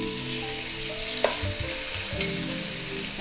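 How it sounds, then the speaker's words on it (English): Beef steak sears in hot olive oil with a loud, steady sizzle, broken by a couple of sharp crackles and pops as the pieces hit the pan. "We want that olive oil to get nice and hot before we add our steak."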